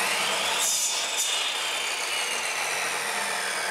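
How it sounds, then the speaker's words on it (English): A wooden bow stave being cut to 29 inches in length with a saw, a steady rough broadband cutting noise running close and continuous throughout without pause. "now this is going to be cut to 29 inches in length"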